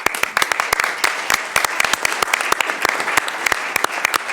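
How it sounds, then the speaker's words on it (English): Audience applause for panel members at a consumer affairs event, a dense, steady patter of many hands clapping throughout at close range, with no talk over it. "Please give them a round of applause."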